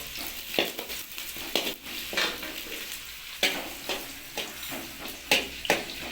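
Onion is stirred and fried in a pan for a raw banana dish, with uneven bursts of spatula scraping and clatter rising over a low, steady sizzle at close range.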